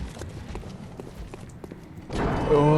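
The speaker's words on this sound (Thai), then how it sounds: "โห รถม้าโคตรใหญ่" Horse-drawn carriage in the video game Bloodborne, hooves clip-clopping in a quick, light rhythm for a couple of seconds before a louder, fuller game sound swells in at the end.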